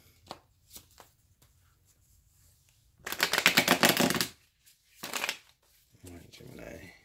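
Tarot cards being shuffled close by, a quick riffling burst and then a second shorter one, with a few soft taps and card handling noises around them in a quiet room.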